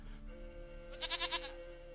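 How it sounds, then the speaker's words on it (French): A goat in The Witcher 3 bleats in a short run of four or five wavering pulses, loud and close over a steady game-music backdrop, with no voices. "Une chèvre à moi, gentille,"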